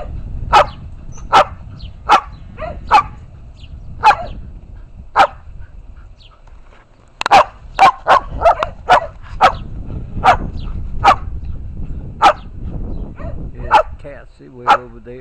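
A dog barks repeatedly at close range, sharp single barks spaced irregularly, with a quicker flurry partway through and a low background murmur.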